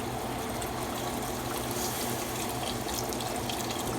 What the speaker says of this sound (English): I'm gonna pour some veggie broth in here.